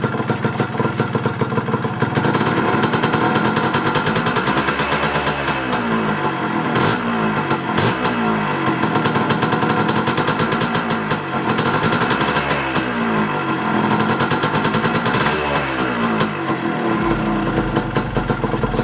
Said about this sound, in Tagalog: Ngayon, i-rev ko siya pataas ng pataas hanggang 5000 RPM.